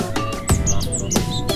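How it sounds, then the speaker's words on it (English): A red cardinal calls with a few sharp, clear chirps spaced about half a second apart. The chirps are close and loud over a light outdoor background. "red cardinal,"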